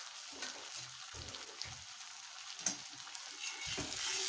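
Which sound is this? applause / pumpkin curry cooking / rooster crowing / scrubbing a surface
pumpkin curry cooking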